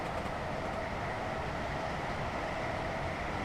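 A BR Class 455 electric train passes in a train simulator game on a foggy day near West Byfleet, giving a steady, loud, continuous rumbling roar with no talk.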